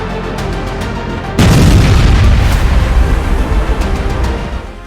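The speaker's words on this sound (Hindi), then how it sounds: "रूस तोपखाना यूक्रेनी सेना के 221 मोर्चों पर अंधाधुंध हमले कर रहा है।" Russian artillery fire in Ukraine: a loud deep boom erupts after a steady rumbling background, followed by a long rolling roar of blasts and echoes that slowly fades.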